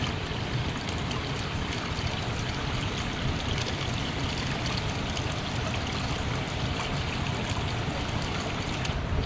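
The Cikundul river flows steadily past a village on a rural path beside rice fields, a continuous broad rushing and trickling of water with no voices over it.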